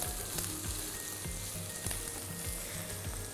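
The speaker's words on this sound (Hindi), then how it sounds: "प्याज को हम सौते करते जाएंगे साथ साथ" Onions with ginger and garlic sauté in hot oil with a steady, loud sizzle and crackle, broken by rhythmic stirring scrapes from a utensil, for a chicken white karahi.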